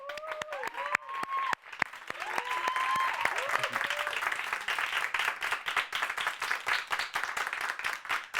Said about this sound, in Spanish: Por favor, reciban con un gran aplauso a Renato Guillén.